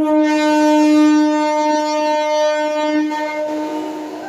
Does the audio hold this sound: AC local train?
yes